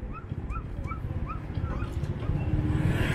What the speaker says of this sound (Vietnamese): có một chị đang bán những chú cún con rất là dễ thương